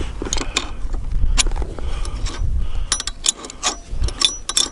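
Tool tightening set screws on a KTM 85sx dirt bike flywheel, a series of close metallic ratcheting clicks and rattles in uneven bursts, no voice.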